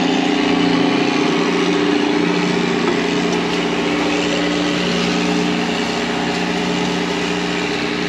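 Tractors working together to pull a stuck John Deere 7500 forage chopper with a dump wagon out of a field, their engines droning loud and steady at a constant pitch throughout.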